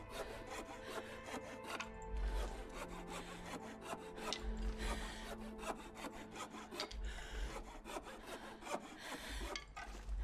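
Steady rasping strokes of a hand saw cutting through wood in The Long Dark survival game, continuous and fairly loud for ten seconds with no speech.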